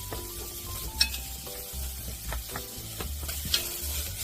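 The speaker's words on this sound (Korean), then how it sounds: "냄비에 기름 두르지 않고 대파와 양파를 노릇하게 볶아주세요." Steady sizzling of onion and green onion dry-frying without oil in a pot, with occasional clinks and scrapes of a utensil stirring, no voices.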